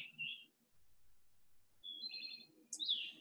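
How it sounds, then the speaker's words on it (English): A pine warbler chirps from pine trees in spring in short, high, thin phrases, pausing in between, with a quiet low murmur in the background. "you hear a chirping sound coming from the pine trees this time of year, chances are it's a pine warbler"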